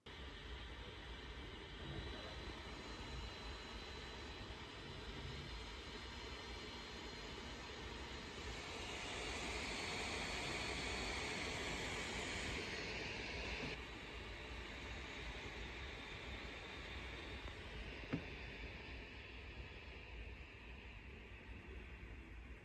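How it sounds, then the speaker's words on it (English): A Tuxedo Aura 15 Gen2 Linux laptop fan spinning at full load makes a faint, steady whooshing hum that swells a little in the middle before settling back, with no talking. "But at full load, you can of course hear the fan, as you could tease out very well in the provocated Geekbench test"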